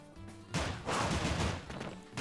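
Rapid gunfire from Joker in Super Smash Bros. Ultimate, a dense burst of shots with crashing impacts starting abruptly after a brief quieter lead-in and continuing loudly to the end.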